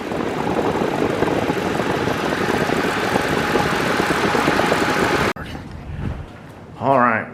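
An engine, just repaired and sitting on jacks with its cooling fan working, runs loudly and steadily for about five seconds, then cuts off abruptly, leaving quieter background noise and a short burst of talk near the end.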